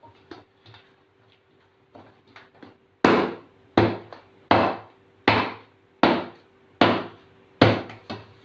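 Pizza dough for a restaurant-style cheese burst pizza is kneaded by hand with a little flour, giving a run of about eight steady, close thuds at an even rhythm after a few softer taps, with no talking.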